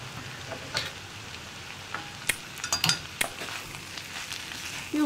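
Papaya and potato stir-fry is stirred in a hot pan with salt, a soft continuous sizzle broken by a few sharp scraping clinks of the spoon, close by and without talk.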